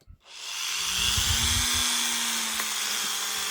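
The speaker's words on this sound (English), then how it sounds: "So with the mothers, using my Dremel and a pad." Dremel rotary tool with a polishing pad and metal polish buffing brass cuckoo clock parts: the motor whines up quickly to a steady, close, high-pitched hum that holds for several seconds.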